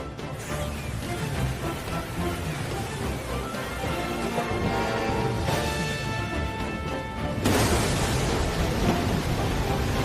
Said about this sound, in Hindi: ये एक मामूली तूफान है जिससे तुम डर रहे हो।